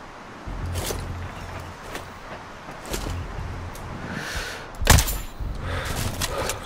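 Sniper rifle fire in the game Sniper Ghost Warrior Contracts: a few sharp cracks, the loudest near the end, over low rumbling thuds and a quiet background.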